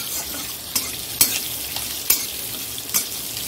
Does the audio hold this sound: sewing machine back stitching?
no